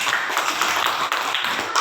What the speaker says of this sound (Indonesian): Kita berikan tepuk tangan dulu untuk Siti.